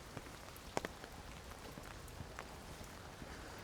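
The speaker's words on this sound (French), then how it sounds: "pour profiter de cette pluie." Rain falling outdoors during a walk, a soft continuous patter of raindrops with a few sharper drips and faint footsteps close by, fairly quiet and with no talking.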